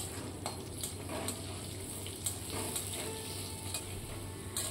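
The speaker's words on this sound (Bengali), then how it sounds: "এরপর আলুগুলোকে একটু লবণ দিয়ে একটু লাল লাল করে আলুগুলোকে প্রথমে ভেজে নিচ্ছি।" Potatoes fry in mustard oil in a wok as a soft, continuous sizzle, with a few faint scraping and stirring clicks scattered through it.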